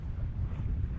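Wind roars steadily past a small sailboat making over five knots, sailed single-handed off the English coast between Brancaster and the Humber; a continuous low, gusty rumble of wind and water with no voices.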